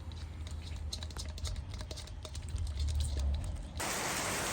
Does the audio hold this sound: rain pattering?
yes